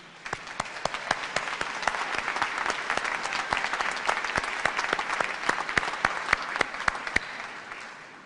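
Steady applause from a large crowd at a Purdue University commencement ceremony, with dense continuous clapping and a few sharper individual claps standing out nearby.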